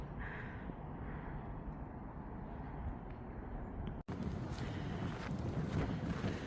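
Freezing wind blows steadily outdoors in Chicago, a constant low rushing with buffeting against the microphone that briefly cuts out midway, then returns slightly louder.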